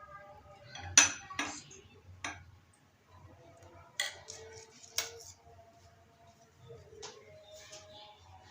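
Spoons and cups clink and tap in a kitchen as cooled custard and jelly are served into cups: a few sharp, sparse metallic and ceramic knocks, close and fairly quiet.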